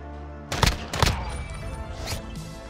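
A few loud gunshots go off in an online shooter video game, with a Desert Eagle pistol in use, as sharp close cracks in a short cluster followed by lighter clatter, with no talk.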